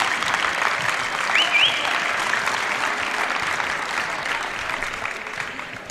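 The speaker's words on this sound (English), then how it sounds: "Let's first give a round of applause to both teams for a very well played and hard-fought match." Steady audience applause at a state championship volleyball match, for both teams, sustained and fairly loud throughout with a brief whistle-like tone early on.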